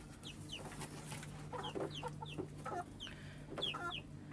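Several feather-footed chicks and chickens cluck and chirp nearby in short, overlapping bursts, with faint high peeps scattered throughout a low background hum.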